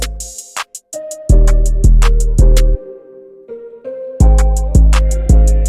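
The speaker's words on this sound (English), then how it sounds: "With just the mallets." An FL Studio beat plays in a hip-hop style, with bright mallet notes over heavy, booming 808 bass hits and crisp hi-hat ticks in an irregular, syncopated pattern, loud and up front.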